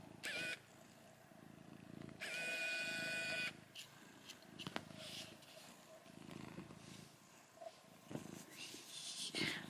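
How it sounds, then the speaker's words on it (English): A cat purrs close by in a low, steady rumble, with brief rustles and soft handling noises around it and a couple of sharp clicks. "how much of the purring it picked up"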